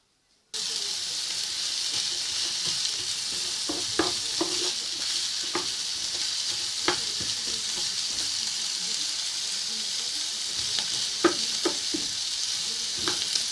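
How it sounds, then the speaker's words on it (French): Onions for a carrot quiche fry in a pan with a dense, even sizzle throughout, punctuated by occasional scraping stirs and light utensil clicks. "Faites bien revenir vos oignons avant d'y mettre les carottes râpées."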